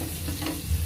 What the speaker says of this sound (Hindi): ये देखिए मेरा तड़का बिल्कुल रेडी है।